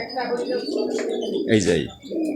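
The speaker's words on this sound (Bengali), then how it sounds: "এই যে কবুতর ডাকাডাকি করতেছে" Pigeons in a loft inside a rickshaw garage coo and call in low, throaty rolls that blend into continuous sound, with a brighter call near the end, close by and mixed with background voices.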